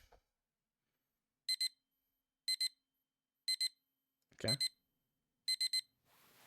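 An alarm clock in the video game Depraved Colors rings in short, regular double-beeps about once per second, clear against silence, with a brief spoken word cutting in midway.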